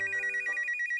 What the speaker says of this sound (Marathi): फोनची रिंग वाजते